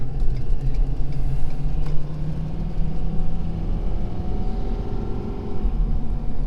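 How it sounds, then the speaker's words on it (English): Heavy 2019 Ford F-350 Powerstroke diesel pickup on 35-inch tires towing 12,000 lb, its engine a loud, steady low rumble and drone heard from inside the cab as it downshifts, with no talk. "The engine downshifting does a lot to help."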